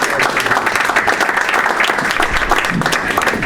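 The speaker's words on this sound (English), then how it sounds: "One more round of applause." Audience applause at a political meeting with Jeremy Corbyn, steady dense clapping from a large crowd that fills the whole stretch at an even, loud level.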